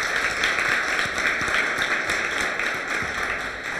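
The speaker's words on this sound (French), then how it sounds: "Applaudissez un peu." Audience applause at a Senegalese high school quiz competition, a dense, steady patter of many hands clapping with a few sharper individual claps poking through.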